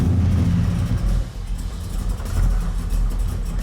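A 1971 Chevy Caprice with an 840-horsepower engine rumbles at idle, a deep throbbing low-end burble that dips briefly then swells again, close and steady with no talking.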